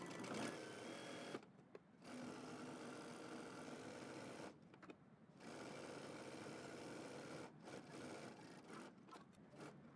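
A home sewing machine runs in steady bursts while back stitching a seam with a 5/8 inch allowance, the close, continuous motor whir broken by short pauses.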